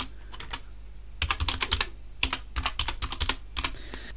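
Password being typed on a computer keyboard during a Linux Mint Debian Edition install, a few light taps, then two quick close bursts of rapid keystrokes, heard alone.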